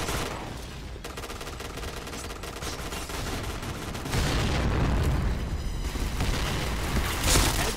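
Bomb blasts and gunfire from the shooter game Point Blank form a dense, continuous barrage of rattling shots and heavy booms, loud throughout, with a deeper rumbling surge in the second half.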